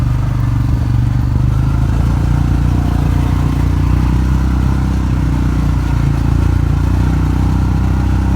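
A Massimo/Hisun 700 UTV side-by-side drives along a trail ridge, its engine a loud, steady, close drone with constant rattling and clatter from the machine. No talk is heard.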